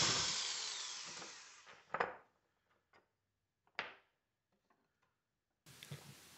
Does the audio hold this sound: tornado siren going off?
no